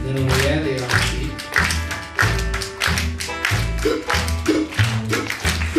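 School audience at a bluegrass concert claps in steady time with the band, sharp group claps repeating about every second over guitar, bass and mandolin, with offbeat claps filling in between.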